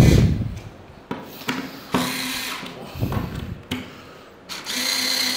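A power drill runs in several short, close bursts of whirring with brief pauses between them, during a solo home renovation job.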